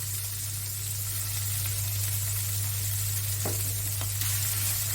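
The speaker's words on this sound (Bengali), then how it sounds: "আগে থেকে ধুয়ে রাখা শাকগুলো কিন্তু দিয়ে দিলাম।" Washed radish greens dropped into hot oil in a pan, a quiet, steady sizzle under a constant low hum, with a couple of brief louder crackles near the end.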